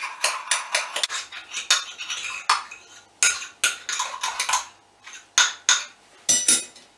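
An egg and water whisked in a bowl for a malt cake batter. A utensil clinks and scrapes against the bowl in quick, irregular bursts with short pauses, close and fairly loud, and no one speaks.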